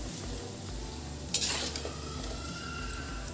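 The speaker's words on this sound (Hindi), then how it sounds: "इसको हमें सुनहरा होने तक तलना है, पिंक कलर तक।" Mathri frying in oil until golden: a steady close sizzle with one brief metallic scrape or clink of a utensil against the pan, and no voices.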